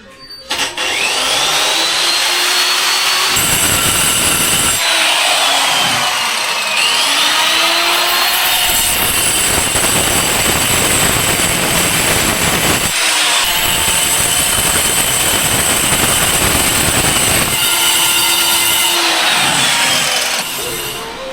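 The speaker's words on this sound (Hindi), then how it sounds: "वो वाला थोड़ा ग्राइंड कर रहा है क्योंकि मसाला अच्छा से कूट सके" A tile mason's grinding tool works over a stone spice-pounding slab, a loud continuous harsh grinding that runs nearly the whole time with brief gaps and pitch shifts, steady and close.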